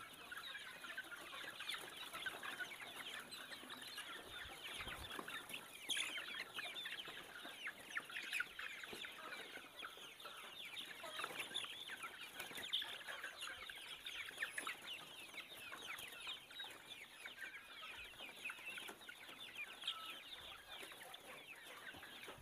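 A flock of free-range village chickens clucks and chatters continuously at a distance while feeding, a dense, faint, steady murmur of bird calls.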